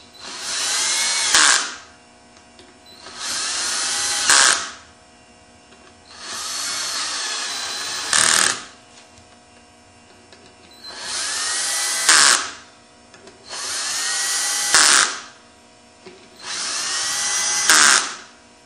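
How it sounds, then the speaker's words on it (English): An electric screwdriver set to its lowest torque runs screws into a YFZ crankcase in six short whirring bursts, each about two seconds long and ending in a brief click, with quiet gaps between them. "Set the electric screwdriver on the lowest torque setting, which is like 2 foot-pounds."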